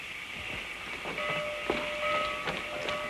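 A train rolls along steadily with a rumbling, clattering hum and a faint whistle-like tone, in a 1936 western film scene, heard alone at moderate distance.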